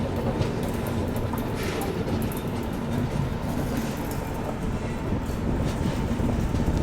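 Steady rail rumble heard from inside a Duronto Express fitted with a Humsafar coach, running between Visakhapatnam and Secunderabad, a constant low roar with faint rattling and no voices.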